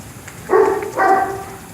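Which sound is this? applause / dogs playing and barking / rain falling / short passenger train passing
dogs playing and barking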